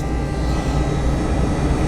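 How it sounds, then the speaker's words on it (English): Jet engines of a 50-year-old Soviet Yakovlev airliner spooling down after landing, a steady loud broadband roar and whine heard from inside the cabin. "And speed is decreasing, the engines are being turned off."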